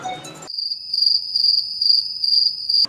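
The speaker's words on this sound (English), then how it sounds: "you could literally hear crickets." Crickets chirp in a steady, shrill, close pulsing trill that runs unbroken after a brief burst of other noise at the start, with no voices.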